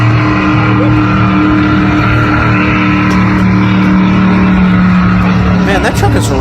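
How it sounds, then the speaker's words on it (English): A monster truck engine roars loudly and continuously in a Monster Jam arena in Atlanta, a sustained heavy drone with arena noise around it. "Man, that truck is really loud for some reason."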